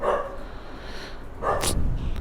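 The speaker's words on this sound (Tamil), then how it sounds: "ஃபுல்லாக நாய்ங்களா இது." Dogs barking at night during a food delivery run, a couple of short barks at the start and again near the end over steady outdoor background noise.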